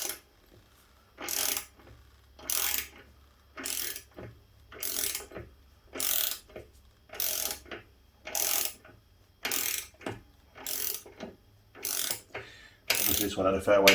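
Torque wrench preset to 50 newton meters ratcheting in regular bursts, about a dozen short metallic clicking runs spaced evenly with brief pauses, close and crisp while fastening trailer suspension.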